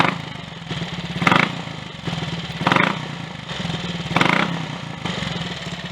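Triumph Tiger Cub motorcycle engine, just adjusted by about a quarter turn out on the mixture screw, runs nearby with a steady single-cylinder thrum and periodic throttle blips every second or so, heard alone without speech.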